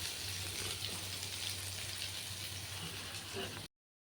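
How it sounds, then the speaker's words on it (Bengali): Bitter gourd and potato fry in a pan with a chili tempering, making a soft, steady sizzle that holds evenly before cutting off into silence. "উচ্ছে আলু ভাজা বসিয়েছি এখনও নুন হলুদ কিচ্ছু দিইনি লঙ্কা ফোড়ন দিয়ে উচ্ছে ভাজা"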